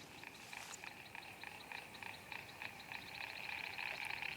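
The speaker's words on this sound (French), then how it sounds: "Les grenouilles sont à la fête." A chorus of frogs croaking across a rain-soaked Sahel savanna, dense rhythmic calls repeating steadily at a moderate distance with no voices.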